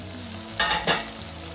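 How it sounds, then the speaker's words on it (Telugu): Turkey berries and tomato fry in oil for pulusu, a soft steady sizzle with two brief louder bursts of stirring in the middle, close by and without speech. "టమోటాతోనే ఇంకా ఉస్టికాయలు వేస్తున్నాను. అవి బాగా మగ్గాలండి ఉస్టికాయలు నూనెలో"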